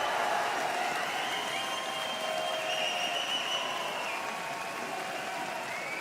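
A large crowd in a small stadium at an Apex Legends esports championship cheers and applauds, a dense continuous roar heard from within the crowd, with faint voices mixed in.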